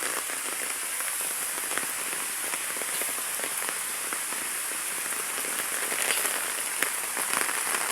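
Heavy rain falls steadily on a village with a pond, a dense hissing patter of countless drops hitting surfaces, constant and close with no voices.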